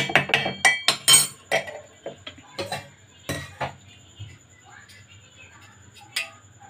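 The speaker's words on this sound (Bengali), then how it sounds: "এর মধ্যে দিয়ে দিচ্ছি আমি টক দই" Sour curd is spooned into a glass for mango lassi. Sharp, close clinks of the spoon against the glass come quickly at first, then thin out into softer, scattered taps.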